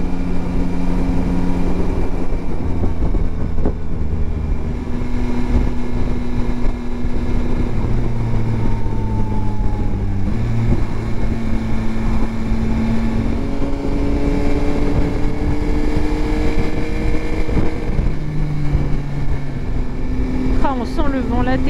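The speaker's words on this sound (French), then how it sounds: "On sent le vent latéral d'ici," Strong crosswind buffets a Yamaha Tracer 9 GT motorcycle on a windy road in Brittany. A constant roar of wind noise sits over the engine note, which rises and falls through gear changes.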